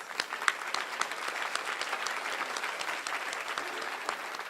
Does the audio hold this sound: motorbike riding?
no